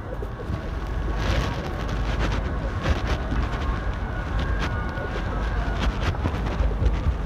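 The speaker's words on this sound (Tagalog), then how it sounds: "So ito, malakas yung hangin" Strong wind near the Barcelona waterfront roars in loud, gusty waves against the microphone, with scattered sharp knocks and rattles mixed in. Nobody speaks.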